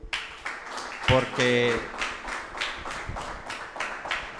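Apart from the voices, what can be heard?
congregation applause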